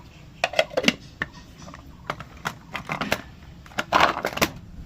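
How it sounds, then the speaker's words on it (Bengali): A handheld chopper cuts small pieces of mango for garlic mango pickle, giving irregular sharp plastic clicks and clattering bursts, close by, with no talking. "এবার আমি একটা চপার নিয়েছি, এর মধ্যে এটা হ্যান্ডি, মানে হাতে হবে, অল্প অল্প আম দিয়ে এর মধ্যে ঘুরিয়ে নেব।"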